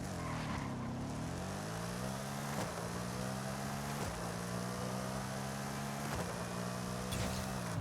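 A 2024 Ford Mustang Dark Horse in Forza Horizon 5, revved hard above 5,100 RPM for a burnout, giving a loud, sustained engine roar with rising and dipping pitch and several sharp shift-like breaks throughout, no talking.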